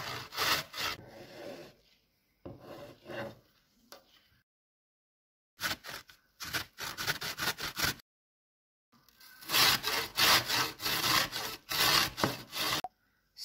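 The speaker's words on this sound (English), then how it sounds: "Grate the zucchinis followed by 1 onion." An onion rubbed against a grater after zucchini in several bursts of quick, rhythmic rasping strokes, close and fairly loud, separated by short silent pauses.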